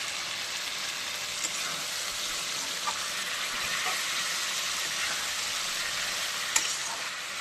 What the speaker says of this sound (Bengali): এবার আমি আলু আর মাছ দিয়ে কষাবো ভালো করে, দিয়ে দিচ্ছি